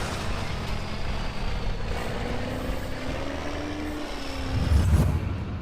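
Mitsubishi Fuso heavy transport truck laboring at full throttle, a low diesel drone with a rising whine, steady and moderately loud, swelling with a heavier rumble near the end, no talking.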